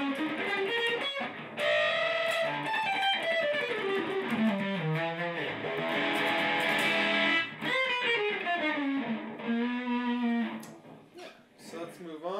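An electric guitar played through its back pickup with distortion rings out loud and alone, with sustained chords and shifting melodic lines that drop out briefly near the end.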